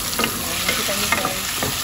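A tomato is stirred into a hot frying pan holding garlic and ginger, giving a close sizzle broken by a few quick scraping stirs; no talking.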